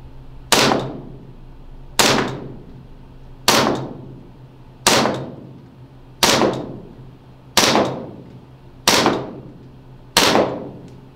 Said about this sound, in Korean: USP 사격 끝났습니다.